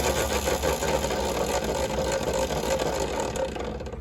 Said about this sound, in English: this is a loud motor. It definitely sounds like it's brushed.